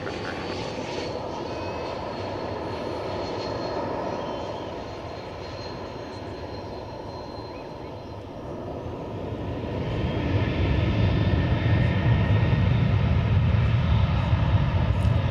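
Jet airliner engines roar steadily during takeoff at DFW Airport, a sustained broadband rumble heard from a distance that swells louder toward the end, with no talk over it.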